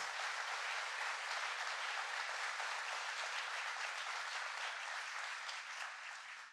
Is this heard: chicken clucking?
no